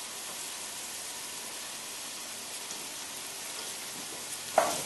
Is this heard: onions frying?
yes